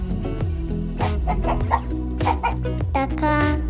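A voice imitates a hen with quick, rhythmic sung clucks over a cheerful children's nursery song with a steady bass beat.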